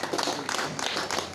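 Crowd clapping at an outdoor felicitation ceremony honouring brave soldiers, a freedom fighter and police officers in Chopdem, Pernem, with dense, steady applause throughout at moderate volume and no talk.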